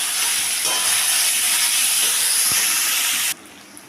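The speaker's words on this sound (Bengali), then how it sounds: "এখন আমি যে আমড়াটা সেদ্ধ করে রেখেছিলাম সেইটা আমি তেলের মধ্যে দিয়ে দেব। দিয়ে আমি একটু নাড়তে থাকবো।" Boiled hog plum hits hot oil in a pan and is stirred, giving a loud, dense hiss that runs steadily and then cuts off abruptly.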